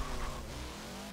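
A heavily modified Fate of the Furious car accelerates in Forza Motorsport 7, its engine droning in a steady, brief rising roar with no voices.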